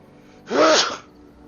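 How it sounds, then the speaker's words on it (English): A single sharp sneeze, close and loud, bursting out for about half a second against a quiet background. "Sneeze."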